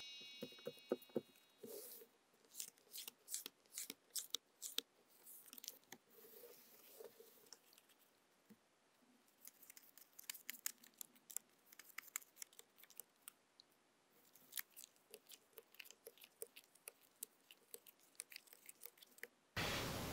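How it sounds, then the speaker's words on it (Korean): Tarot cards are shuffled and drawn during a reading, making soft, quiet patters and sharp little card snaps and flicks in irregular bursts, close up with no talking. "3번 카드를 뽑아볼게요."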